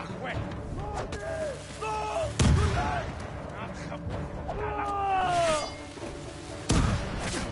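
A sticky grenade explodes in Ghost of Tsushima, with two sharp, loud blasts a few seconds apart over game ambience, and people talking throughout.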